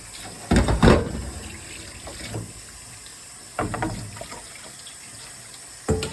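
Vegetables for spring rolls are rinsed under a running kitchen tap, a steady close hiss of water broken by louder splashy surges as the produce is moved through the stream, with no voices.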